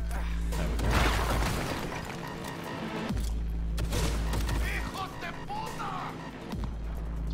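Gunfire in the Cyberpunk 2077 video game, several sharp shots and thuds over a deep constant rumble of game ambience and mechanical noise, with a few heavy impacts.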